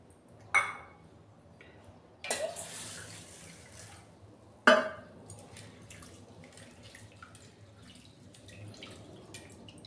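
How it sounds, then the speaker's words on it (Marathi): Lentils (dal) being washed in water, three sharp splashing swishes followed by a steady stretch of trickling, sloshing and dripping, close and moderately loud with no talking. "याला स्वच्छ 2 वेळेस धुवून घेते"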